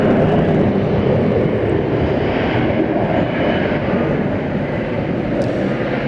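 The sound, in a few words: American Eagle Embraer E175 jet airliner at DFW airport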